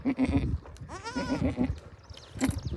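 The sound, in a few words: goat bleating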